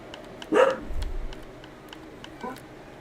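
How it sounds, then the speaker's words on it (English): A dog in the Indiana Jones video game gives a short bark or yelp, followed by faint whimpering under quiet background game sound. "Hopefully Emmett will give this dog some treats"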